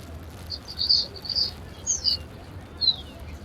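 Pigeons being fed millet and sorghum grain during an Umrah trip give several short, faint chirps and calls at a distance over a quiet low background hum.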